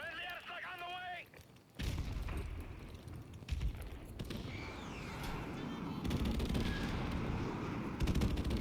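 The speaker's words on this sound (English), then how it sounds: "Friendly airstrike on the way." Heavy airstrike explosions in a Call of Duty Modern Warfare Remastered multiplayer match: loud booming blasts and sustained rumbling barrage from about two seconds onward, near and dense, with a voice briefly heard at the start.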